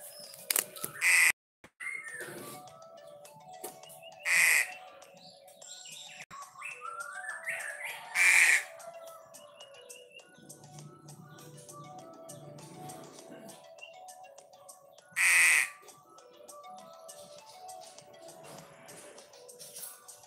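A Pastol songbird gives a handful of short, sharp chirps at irregular intervals, near and clear over a quiet background with faint low rumbling and soft clicks.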